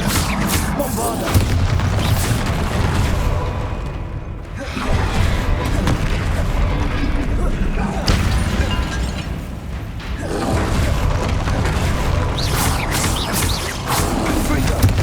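Repeated booming explosions from the Bombarda spell in Hogwarts Legacy, loud and dense over fifteen seconds, with whooshes, crashing debris and a brief lull near the middle amid continuous combat noise and speech-like game voices.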